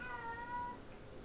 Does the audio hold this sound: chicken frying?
no